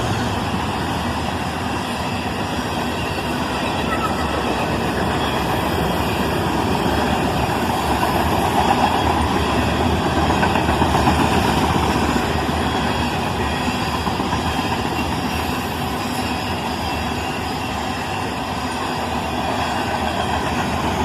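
A northbound BNSF phosphate train led by an ES44C4 and an SD70 Ace rolls past with a steady, broad rumble of engines and wheels that swells slightly near the middle and stays continuous for the whole stretch.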